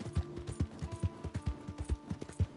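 Horse hooves clip-clop at a steady trotting rhythm in Red Dead Redemption 2, about a dozen distinct thuds over a low ambient bed, fairly close and alone without talk.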